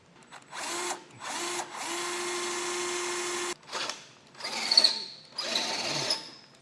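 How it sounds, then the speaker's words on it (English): Drilling out bolt holes on a 2013 Mini Cooper during a base plate installation: several short bursts of a high whirring drill, one run held for about two seconds, close and clear with brief pauses between. "so we need to get that drilled out as well."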